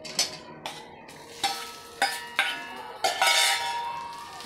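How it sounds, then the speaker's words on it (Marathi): Fried amla hits a hot tempering in a pan and sizzles, while a spoon clanks against the metal in repeated sharp strikes roughly every half second, close and clear with no talking. "आता ह्या गरम फोडणीत आपण तळलेले आवळे घालून देऊया"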